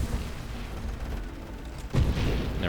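Turrets in a roguelike video game fire a dense stream of low, rumbling booms and thuds, with a heavier burst near the end, steady and fairly loud.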